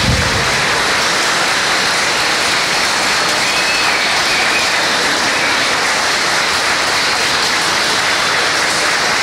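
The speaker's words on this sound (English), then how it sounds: "a round of applause for retired Assistant Fire Chief John Fitzgerald." A crowd at a fire station grand opening claps steadily, a dense, continuous wash of applause at even loudness throughout, with no voices above it.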